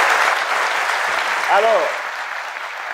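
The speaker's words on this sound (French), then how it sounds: "Je voudrais qu'on applaudisse ça très fort." A talk-show studio audience applauds loudly and continuously for about three seconds, a dense steady clatter of hands with a short spoken word heard briefly over it.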